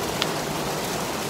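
Steady rain pours during a storm in Houston amid major flooding, a dense, even wash of hiss with no breaks, moderately loud and with no voices.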